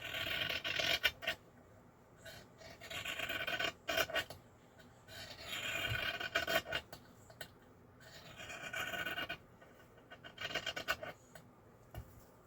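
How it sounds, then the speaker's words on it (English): Scissors cutting the selvage edge off a piece of fabric, a close series of soft rasping snips and sliding cuts at an uneven pace, with quiet handling noise between. "So then I can cut this selvage off here."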